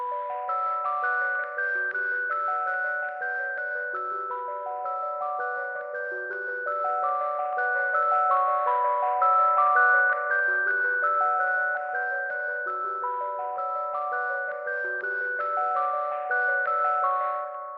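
A bright bell preset from the Omnisphere plugin plays a repeating MIDI melody of clear, evenly spaced tones, steady and alone, with a few lower notes underneath.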